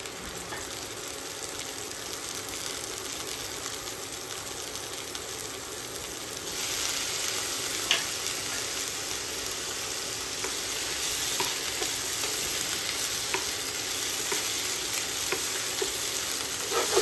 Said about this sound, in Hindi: उसी पैन में हम लोग फिर से हल्का सा तेल लेंगे, और टोमेटो सौते करेंगे।